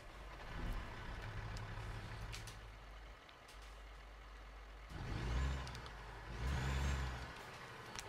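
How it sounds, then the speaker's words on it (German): A heavy truck engine in American Truck Simulator turns over and rumbles to life, low and throaty, idling and revving in a couple of swells. "den Motor starten."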